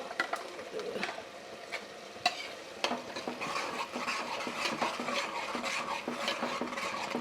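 Ground spice paste frying in a little oil for Mysore-style huli ganji with drumstick greens, with a steady close sizzle and repeated scraping, stirring clicks against the pan throughout.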